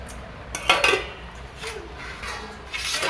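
Large and small plates clatter and clink against each other in a home kitchen at night, a few scattered knocks and scrapes at moderate volume with no talking.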